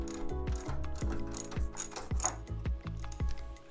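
A ratchet wrench loosening the foot peg bolts on a Husqvarna 701 motorcycle, giving rapid, repeated close clicking in steady back-and-forth strokes, loud and alone with no talking.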